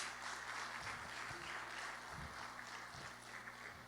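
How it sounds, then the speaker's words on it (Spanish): Congregation clapping during an evangelical church service, a dense steady wash of applause with broad continuous texture and no pauses, filling the room evenly throughout. "Denle un aplauso a Jesús"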